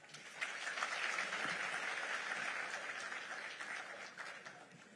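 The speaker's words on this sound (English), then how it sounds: "Let's give him another round of applause." Sustained audience applause at a conference presentation fills the room from start to finish, a dense, steady wash of many hands clapping that eases slightly near the end.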